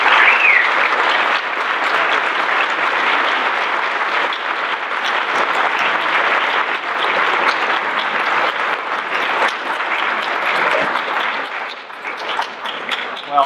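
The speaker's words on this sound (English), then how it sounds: "can we have a collective, even bigger round of applause?" Sustained applause from an audience at a talk on imprisonment and prisoners' access to justice, a dense steady wash of many hands clapping throughout, loud and continuous with a slight dip near the end.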